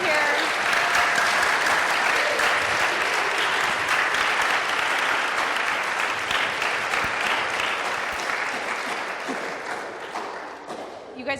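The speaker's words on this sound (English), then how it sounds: "So give them a round of applause" An audience gives a long, full round of applause, dense continuous clapping from many hands that holds steady for several seconds and then slowly tapers off, with a few voices faintly underneath.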